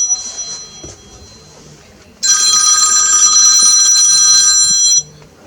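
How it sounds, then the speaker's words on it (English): An electronic telephone bell rings steadily for about three seconds, loud and close, after a quieter stretch of room ambience, then cuts off abruptly; no one speaks. "oh dear, there's the phone"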